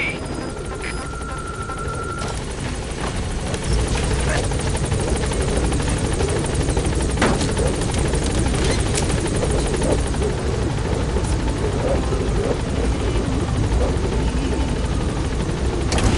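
A helicopter in Metal Gear Solid V arrives at a landing zone, its rotor drone loud and continuous throughout, growing fuller after the first few seconds as it settles on station.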